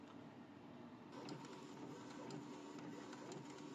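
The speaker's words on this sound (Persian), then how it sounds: "پرینترم الان داره چاپ انجام میده" A desktop printer prints registration marks for a Silhouette Cameo 5 cutter plotter, a steady faint mechanical whir with soft shuttling of the print head, heard alone throughout.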